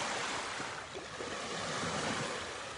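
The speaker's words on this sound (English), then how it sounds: "The pounding of the waves." Ocean waves pound a shoreline where old steps have washed away, a dense, continuous roar of surf filling the sound evenly, loud and close with some wind on the microphone.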